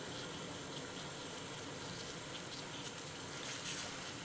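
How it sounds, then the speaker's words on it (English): Water at a solid rolling boil in a canteen cook pot with the lid off, a steady dense bubbling roar that stays even and close throughout, with no voices. "solid rolling boil here."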